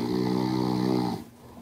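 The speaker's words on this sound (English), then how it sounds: "Reducing snoring." Snoring from the Soundly snoring-reduction app game: a loud, steady rumbling harmonic drone held for about a second, then cutting off abruptly into quiet.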